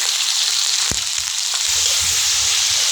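Chicken pieces fry in hot cooking oil for pancit, a loud, steady sizzle and crackle close up, with a faint knock or two from the pan.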